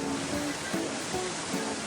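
A 40-metre waterfall deep in dense forest in the Hyang mountains of Tanggul, Jember, East Java, gives off a steady, full roar of rushing water with no pauses and no speech.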